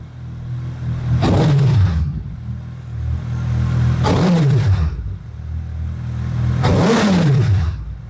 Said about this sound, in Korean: 배기 소리를 한번 들려드리겠습니다